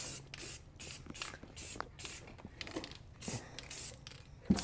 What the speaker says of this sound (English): gonna hit these with some rust reforming powder coat in a can